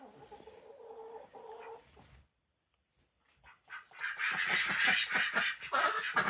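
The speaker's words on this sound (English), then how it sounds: "The male ducks have been fighting a lot." Several male ducks quacking loudly and squabbling up close, harsh rapid calls after a short quiet gap, with lower clucking from other fowl at the start.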